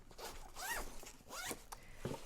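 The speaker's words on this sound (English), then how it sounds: "you, you zip it up, you fit it in" A zipper being drawn shut on a fabric packing cube for clothes, with two quick rising zips and a short final tug, close and fairly loud with no voices.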